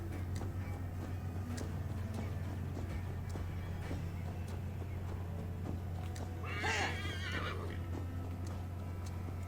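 A horse whinnies loudly in Assassin's Creed Valhalla, a single sharp neigh over a steady clip-clop of hooves and a low rumbling game ambience.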